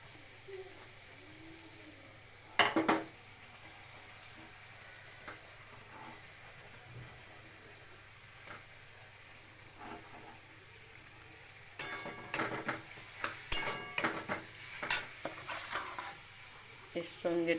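Mashed cauliflower for pav bhaji sizzles softly in a pan, with scattered scraping stir strokes and metal clinks that grow busier toward the end, while a voice talks over it.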